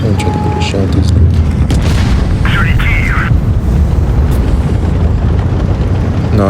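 A tank cannon shot booms in World of Tanks Blitz, fired from a Foch 155 tank destroyer. It lands as a heavy report within dense, continuous battle and engine noise that stays loud throughout.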